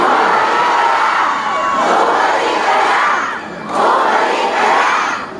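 A large crowd at a political rally shouts loudly and continuously, the roar swelling twice in long sustained waves with no pauses.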